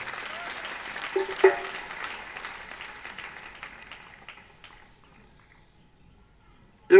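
Church congregation applauding and acclaiming the Lord, a dense burst of clapping that peaks early, then thins and fades over several seconds before a brief loud sound at the very end.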